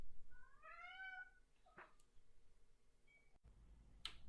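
A pet cat named Cece gives a single drawn-out meow, faint and close in a quiet room, followed by a few small clicks and taps.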